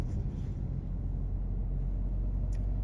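Steady low engine rumble and road noise from a car cruising along a winding scenic road near Marthandam, heard from inside, constant and unbroken with no talk.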